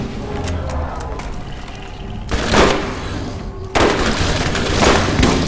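Video game gunfire with loud, sharp booms arriving in two bursts over a constant dense background of game noise.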